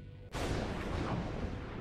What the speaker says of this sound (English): The explosion sounded nearby.